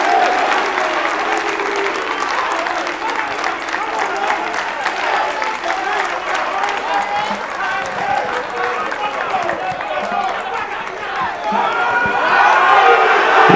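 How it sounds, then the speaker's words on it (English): A crowd applauds and cheers for contestants arriving on stage at the NSMQ 2020 grand finale, a school science and maths quiz. The dense clapping runs continuously and swells louder toward the end. "a round of applause to all our contestants."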